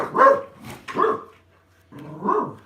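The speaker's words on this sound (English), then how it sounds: "There's a wee dog out there." A small dog barks outside in several sharp, close bursts separated by short pauses, with no talking over it.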